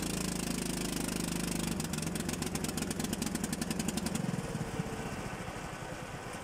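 A go-kart engine running with a loud, rough mechanical putter that shifts pitch partway through and then fades as it sputters down, suggesting a faltering engine that keeps stopping.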